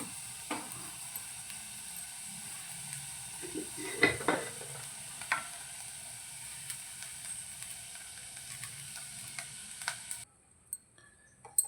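Cooking oil sizzles softly in a hot pan while making tomato pickle, a steady faint hiss broken by a few clinks and scrapes of a utensil.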